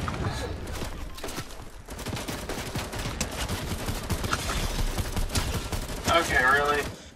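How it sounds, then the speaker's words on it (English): Dense Fortnite video-game gunfire rattles through a chaotic battle, bursts piling up with explosions and in-game effects, while voices talk and shout over the shooting. "Bruh, stop shooting"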